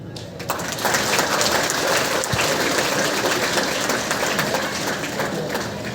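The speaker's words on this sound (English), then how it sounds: "you must give him a round of loud applause" Loud, dense applause from an audience at a Khasi community celebration in Shillong, a steady wash of clapping filling the whole stretch with no speech over it.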